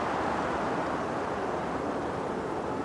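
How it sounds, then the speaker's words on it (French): A sudden gust of wind in the 1999 PC game King's Quest 8 rushes as a steady, broad hiss, continuous and fairly loud, with no voices over it. "Attends, Connor, quel est ce vent soudain?"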